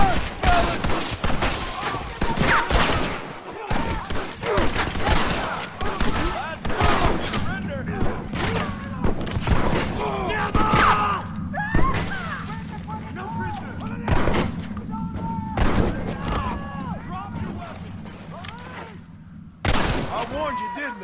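Rapid gunfire from a Red Dead Redemption battle against United States Army soldiers, with dense overlapping shots and booms throughout, loud and sustained, mixed with shouting voices.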